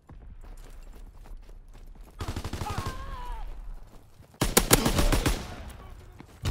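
A PPSh submachine gun fires in a video game, two loud rapid bursts of automatic fire, the second heavier, over quiet background game noise.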